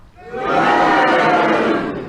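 A studio audience at a radio panel game lets out a loud, sustained roar of mixed cheering and booing, swelling quickly and holding for about two seconds before easing off.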